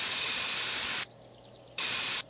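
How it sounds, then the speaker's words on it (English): A spray can hisses loud and close as a rear left quarter panel is painted in My Summer Car: one long burst, a brief pause, then a second shorter burst, with no talk. "All I did was spray the rear left quarter panel."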